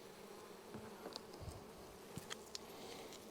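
A honeybee buzzing around a beekeeper at an open hive in an apiary, a soft close whine that rises and fades as it circles, with faint rustles and light taps underneath.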